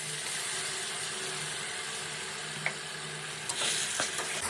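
A ginger, garlic, green and dried chilli spice paste with tomato fries with chicken in a pan, giving a continuous dense sizzling hiss with a low hum beneath and a few sharp utensil knocks near the end, close and steady.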